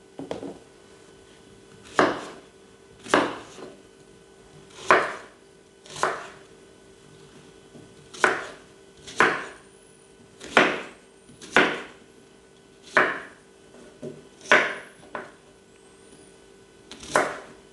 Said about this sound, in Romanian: Așadar, începem cu ceapă. O tăiem prima dată bucăți.